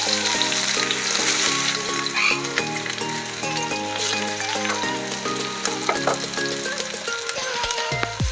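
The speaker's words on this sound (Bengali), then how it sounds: "পেঁয়াজগুলো ভালো করে ভাজা ভাজা করে নেব" Chopped onions frying in hot mustard oil, a dense crackling sizzle under a layer of tonal background music, with scattered stirring scrapes, no talk.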